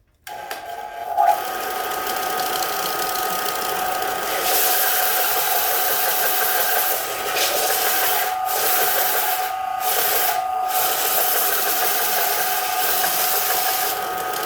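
A Harbor Freight belt sander motor starts with a brief thump, then runs at a steady mechanical hum and whir, close and continuous, with a few momentary dips in the sound.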